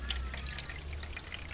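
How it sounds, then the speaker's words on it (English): Water is poured into the bottom of a meat smoker set up for smoking with coconut husks, a steady soft trickle and splash close by, fairly quiet, with no talking over it. "So I'm just pouring some water in the bottom right now"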